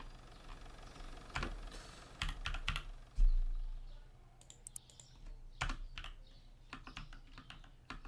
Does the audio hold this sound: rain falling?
no